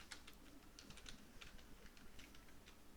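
Quick bursts of computer keyboard typing as a search is entered, close and fairly quiet, with clustered key clicks and short pauses, no speech.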